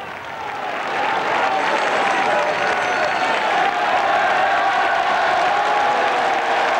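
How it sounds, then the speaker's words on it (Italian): A large street crowd applauds and cheers the silver-decorated fercolo of Sant'Agata arriving during the 1995 festival procession, loud continuous clapping swelling in after a second, with crowd noise beneath. "Un lungo applauso accompagna l'arrivo"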